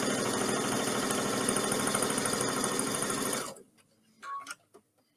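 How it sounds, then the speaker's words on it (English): A sewing machine stitching a quarter-inch seam in fabric for an Easter carrot craft, running as a steady, dense motor whir for about three and a half seconds, then stopping abruptly, followed by a few faint handling noises. "I'm just going to sew 1/4 inch."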